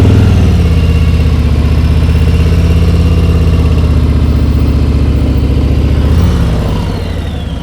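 A motorcycle engine runs at a steady, loud idle close by during a stop with the rear brake applied and clutch pulled in, its low throb holding even before easing slightly at the end.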